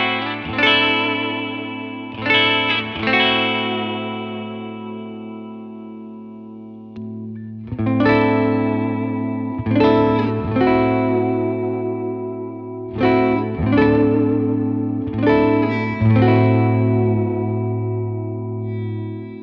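Fender Jaguar electric guitar played through its bridge pickup on the lead circuit, then switched to the rhythm circuit, with repeated strummed chords ringing with effects and sustain, close and clear with no talking.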